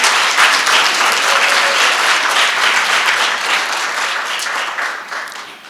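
A large audience applauds at an Emory School of Medicine scholar's remarks, a loud sustained wash of many hands clapping that slowly tapers toward the end.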